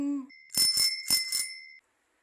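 Synthesized notification bell rings in two quick double-strike pairs with a sustained ringing tone, clear and close, ending in silence.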